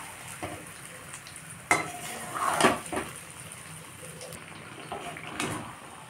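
A spice mix for mango pickle fries over medium heat with a low, steady sizzle, broken by a few sharp clinks and scrapes of a utensil against the pan.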